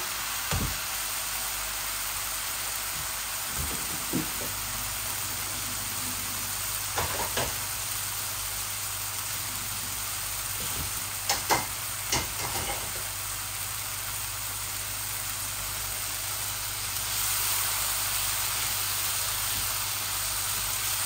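Chickpeas fry in a hot pan, giving a steady broadband sizzle that runs throughout, broken by a few short knocks and stirring clatters, with no talk.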